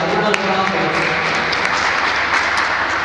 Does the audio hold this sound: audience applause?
yes